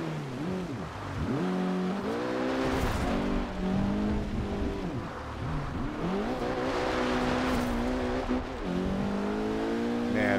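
A VW Beetle GRC drifts in Forza Horizon 2, its engine wailing and revving continuously with rising and falling pitch sweeps, tire squeal mixed in, loud and steady throughout.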